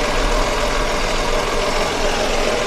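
A damaged car engine with back compression and heavy oil burning runs steadily with rough internal noise, a loud continuous drone with no voices over it.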